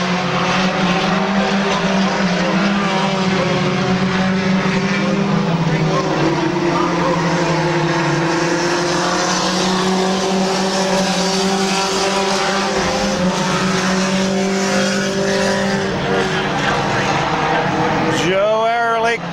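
Stock cars race at Midvale Speedway, engines roaring loudly and continuously as the pack circles, with a race announcer talking over the din and a sharp sweep of a passing car near the end.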